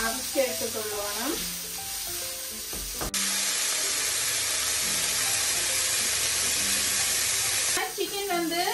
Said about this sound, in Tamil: இப்ப இந்த சிக்கனை வந்து வனிதா வந்து இந்த ஒயில்ல அவிச்சு எடுத்துக்கொள்ளுவோம்